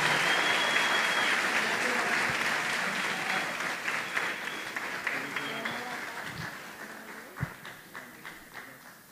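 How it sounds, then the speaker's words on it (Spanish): A congregation at a parish church Mass claps steadily, the applause gradually fading toward the end with a few scattered individual claps. "le demos también un fuerte aplauso a ellos también por su trabajo"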